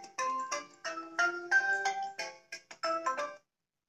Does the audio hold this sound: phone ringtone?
yes